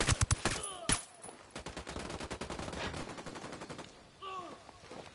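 Sustained gunfire rings out in a firefight, a rapid string of loud, close shots and bursts rattling almost continuously, with a short lull and some faint voice-like sounds near the end.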